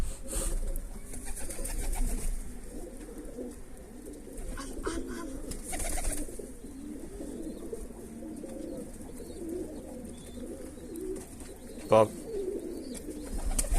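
Pigeons coo softly and repeatedly over a low outdoor murmur, with a few sharp flutters and a brief louder thump near the end, as a pigeon is caught by hand.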